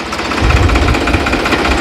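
A New Holland 3630 Super tractor with a modified turbocharged diesel engine, running close by with a loud, rough, chugging idle and heavy low-end throb, steady throughout.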